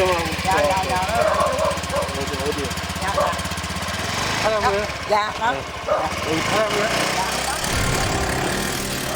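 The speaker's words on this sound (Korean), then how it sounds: "오토바이를 탄 중년 여성이 진석 씨를 둔 채 그대로 급하게 떠나버리는데요" A small motorcycle engine revs and pulls away under overlapping voices, its drone shifting in pitch before thinning into background noise.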